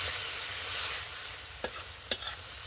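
Chinese kale and canned fish stir-frying in a pan, a steady hiss with two or three sharp clicks of a utensil against the pan near the end, with no voices.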